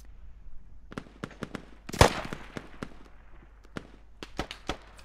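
In a video game firefight, a grenade goes off as one loud, sharp blast near the middle, set among scattered crisp gunshot cracks before and after it. No one speaks over it.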